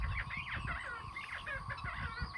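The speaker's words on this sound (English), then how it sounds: "She is a Americana chicken, so she lays blue eggs." An Americana hen on a farm gives a run of close, steady clucking and squawking calls over a continuous low background rumble.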